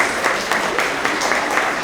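Elementary school assembly audience clapping for 3rd and 4th grade Honesty Award winners, a loud, close, steady patter of many hands with a slightly pulsing rhythm.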